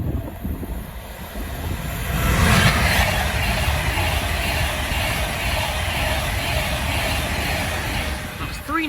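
An Avanti West Coast service from London Euston to Birmingham New Street runs through Bushey station, a steady broad rumble of rolling stock that swells after a couple of seconds and holds, close and loud.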